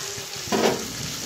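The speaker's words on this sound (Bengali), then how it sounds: "মাছগুলো একটু ভাজা ভাজা হয়ে নিই" Foli fish fry in a covered pan, giving a steady close hiss that swells briefly into a louder sizzle midway through the short stretch.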